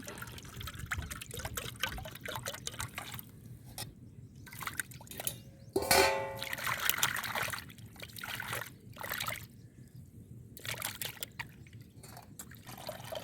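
Water poured from a bottle over fish being washed outdoors in a forest, a soft splashing trickle that swells briefly in the middle against a quiet background of faint ambient noise.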